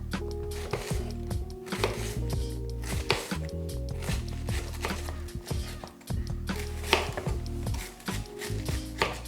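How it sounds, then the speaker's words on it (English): A knife thinly slices cabbage for sauerkraut, its steady crisp chopping strokes striking a cutting board in a quick rhythm, close and clear over a low background hum. "You want to try to get your cabbage as thinly sliced as you can."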